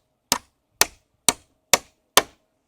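Five sharp hammer blows land on nails during roof work, evenly spaced about half a second apart, each a crisp close knock that dies away quickly, with no talk between them.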